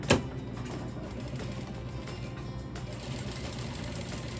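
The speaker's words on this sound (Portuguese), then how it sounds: "E a gente vai lá na máquina agora pra gente montar esse cantinho aqui." A sewing machine stitching patchwork fabric pieces for a tulip block, running in a steady, continuous close whir after a brief starting clunk, with no talk.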